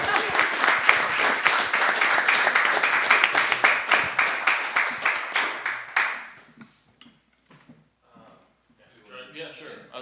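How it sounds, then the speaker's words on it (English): Audience applause at a healthcare regulation panel discussion: dense, loud clapping for about six seconds, then thinning into a few scattered claps and quiet room noise. "I can give some verbals round of applause"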